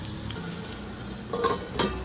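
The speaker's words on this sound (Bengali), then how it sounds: "এই আলুটা এবার এই তেলের মধ্যে ভেজে নেব।" Cut potato pieces fry in oil in a pan over a low gas flame, giving a continuous close sizzle with a couple of brief louder crackling bursts near the end.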